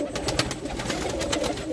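Pigeons coo softly in a loft in Lucknow, India, a few throaty rolling calls at close range over a low background murmur.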